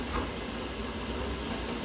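Hot water rushing steadily from a pipe or tap during a plumbing job in a church with a newly installed combi boiler, a dense constant hiss with no breaks or talking.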